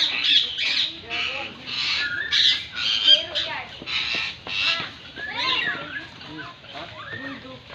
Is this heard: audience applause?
no